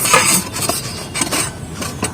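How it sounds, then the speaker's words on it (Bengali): Raw mango being grated into long thin shreds, a dry rasping scrape repeated in uneven strokes, close and fairly loud with no talking. "এই দিক দিয়ে আমটা কুড়ে নেবো"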